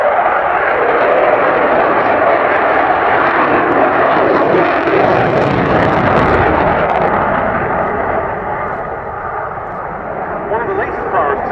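A Eurofighter Typhoon jet roars past at the RAF Cosford airshow, a loud, continuous broadband engine rumble that swells and slowly eases, with a commentator talking over the PA.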